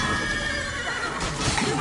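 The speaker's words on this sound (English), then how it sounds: "Get that horse out of here." A horse whinnies in The Witcher 3: Blood and Wine on PS5, amid dense game background noise, with a rumbling mix and faint hoof-like clatter underneath.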